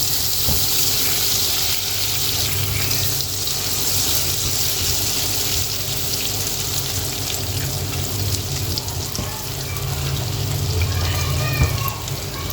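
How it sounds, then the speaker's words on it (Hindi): Finely chopped garlic sautés in butter and cooking oil, a continuous bright hiss and sizzle running steadily throughout. "हम गार्लिक को सौते कर देंगे कि इसके अंदर जो है अच्छे से फ्लेवर आ जाए।"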